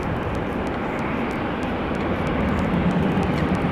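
An Austrian Airlines plane departs Amsterdam Schiphol for Vienna: a loud, steady jet roar fills the whole stretch without a break, swelling slightly toward the end.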